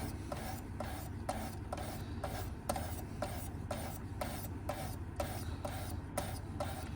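A knife blade sharpened on a 600 grit stone of a Work Sharp Precision Adjust sharpener, giving steady, evenly repeated rasping strokes close up, about a dozen back-and-forth passes with no talk.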